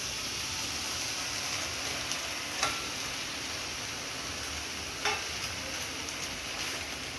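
Catla fish heads frying in a pan with cabbage, sugar and slit green chillies give a steady, close, hissing sizzle, with a couple of brief clicks from stirring.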